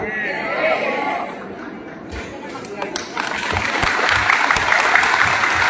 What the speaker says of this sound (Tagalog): Maraming salamat po doon sa pumalakpak